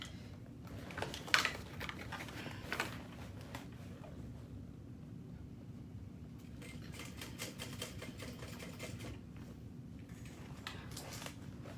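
A sewing machine stitches a seam in short bursts, a quiet, close mechanical whir with pauses between runs as the needle stops down for repositioning.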